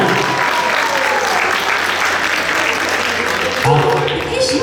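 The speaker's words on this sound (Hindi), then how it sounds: "जोरदार तालियां।" Loud, dense applause fills a hall at a gala night and holds steady. Near the end the clapping thins out and a voice starts speaking.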